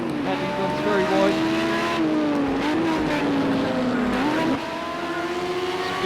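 Race car engines drone and whine in Project Cars 2 on the Xbox, several cars running close together with rising and falling revs and a gear shift near the end, under a commentator's voice.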